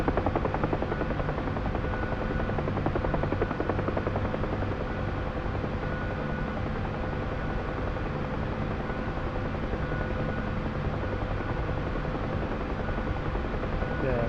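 Simulated helicopter in the DCS flight game, hovering close behind another helicopter's tail rotor, giving a steady, loud rotor and engine drone that runs unbroken throughout.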